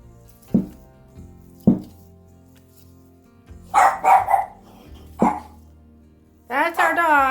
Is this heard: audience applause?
no